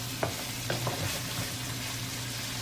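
Water spinach stems being stirred in a pan for adobo: a steady frying sizzle with a few distinct spatula scrapes early on, then continuous crackle, near and with no voices.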